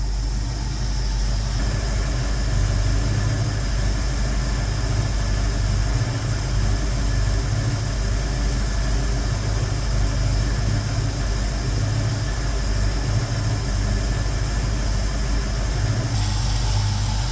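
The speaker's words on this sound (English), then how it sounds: "You heard RPM go up and everything smooth out." A 1971 Ford Torino V8 idles with a questionable carburetor and a loosened distributor. The rumble is steady, close and loud, runs without talk throughout, and shifts slightly near the end.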